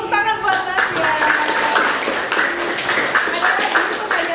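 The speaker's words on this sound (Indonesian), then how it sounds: "Tepuk tangan buat Nasya." Classroom clapping from students during a lesson, a steady patter of many hands sustained for several seconds at moderate level, with voices chattering underneath.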